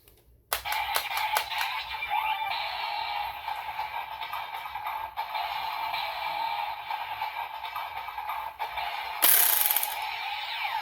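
Electronic finisher sequence from a Kamen Rider Zeztz DX sensor toy, with steady tonal chimes and sound effects playing continuously and fairly loud, a rising burst near the end, no talking.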